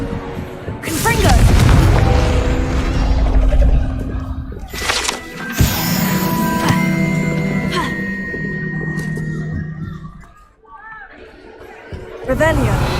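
A Confringo fire spell in the Hogwarts Legacy video game bursts with a heavy, booming explosion, followed by magical chimes, crackles and further impacts, with character voices speaking over the game sounds.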